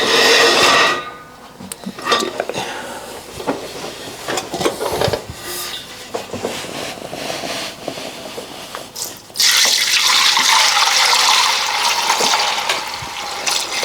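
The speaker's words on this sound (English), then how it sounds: "what I like to do before I put it in the press is just drain off some more whey" Whey pours off matted cheese curds during Gouda making, a continuous splashing liquid stream that varies in strength and grows louder and brighter toward the end.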